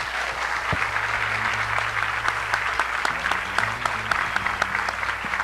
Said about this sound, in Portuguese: Agora sim, podemos aplaudir os nossos patrões.